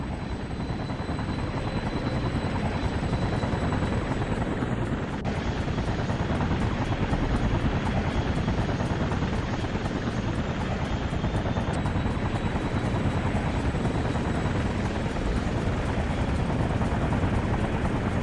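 A helicopter flies in an Infamous video game cutscene, its rotor churning in a steady, loud, continuous drone throughout, with no talking.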